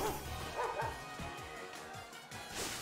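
A dog Pokémon in the video game Pokemon Violet barks in short, repeated yips over loud game music and battle sounds, close and fairly prominent.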